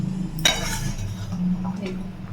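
Chili chicken in a thick gravy stirred in a pan, with a sharp scrape of the utensil against the metal near the start, then a low, steady simmering bubble and a few soft clinks, close by.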